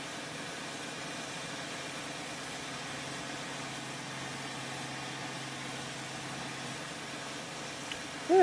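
A tractor engine idles steadily in Farming Simulator 2013, a faint, even low hum with a constant mechanical drone, unchanging until a brief louder bump at the very end.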